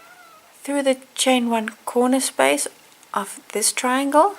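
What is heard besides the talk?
cat meowing, complaining because hungry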